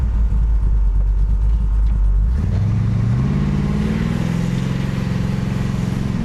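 A restored car with a brand new big block engine and cowl induction hood runs loud and close, a deep rumbling idle shifting partway through into a rising, revving drone as it pulls away, with no talking.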